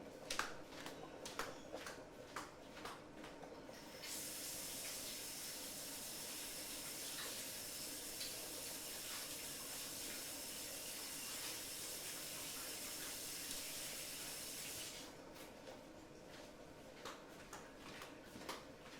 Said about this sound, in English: I'm just going to go wash my hands